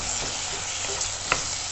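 Garlic, onion and tomato sautéing in a pan give a continuous hiss and sizzle with a couple of short utensil scrapes, close and steady throughout.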